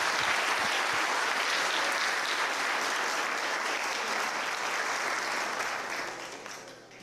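A crowd claps in a long, dense round at a police promotional ceremony, the steady applause holding evenly before thinning and fading out near the end.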